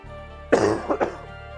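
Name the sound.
coughing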